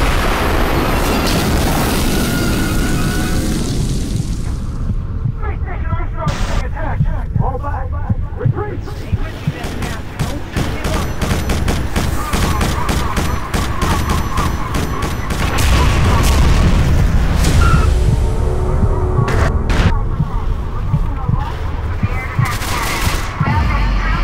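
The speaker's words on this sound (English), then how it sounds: "a guided missile finds its mark, sending the squad ship hurtling towards a crash landing on Strogos" A guided missile strikes a squad ship in Quake 4, setting off a run of loud booming blasts and crackling bursts as the craft hurtles toward a crash landing on Strogos, dense and continuous over heavy rumble.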